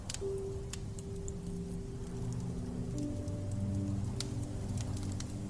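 Rain falls steadily, a soft continuous patter with occasional sharper drops, quiet and even, with a low hum and faint tonal lines underneath.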